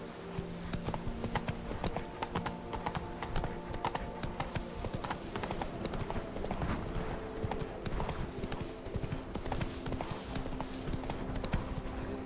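Hooves of the horse Roach trotting in The Witcher 3, a rapid steady clip-clop running throughout over soft ambient background.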